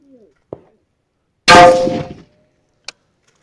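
An AR-10 DPMS rifle bullet strikes a Hardox 500 steel plate with a single loud metallic clang that rings briefly and decays, with a couple of faint distant thumps before and a small tick after.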